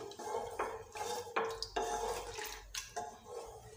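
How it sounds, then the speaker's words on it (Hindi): Water poured into a pot of simmering sambar in a home kitchen, a splashing pour with faint clinks of a metal pot and spoon, close by with no talk. "इसमें हम थोड़ा और पानी ऐड कर देंगे।"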